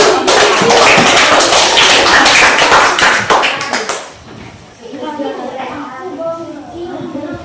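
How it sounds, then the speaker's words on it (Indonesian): Students clapping in a school classroom: loud, close, rapid applause that cuts off after about four seconds, followed by quieter chatter and a voice speaking. "Kasih tepuk tangan buat."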